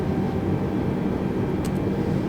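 An Airbus A320 engine in Flight Simulator 2020 spools up toward operating speed during a cold-and-dark startup, a steady, loud turbine roar with a broad rumble that holds even throughout, with no talking.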